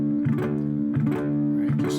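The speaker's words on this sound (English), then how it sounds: "just like a standard muted string sound" Slide guitar in open D tuning, with the strings muted by a finger behind the slide, sounds three times as short, muffled plucks over a low sustained drone, close and moderately loud.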